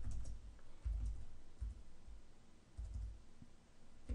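Quiet computer keyboard and mouse clicks while a link is pasted, a few soft taps scattered unevenly over faint room noise, with no speech.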